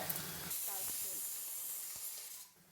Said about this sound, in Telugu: 1/4 గ్లాస్ వాటర్ వేసినాను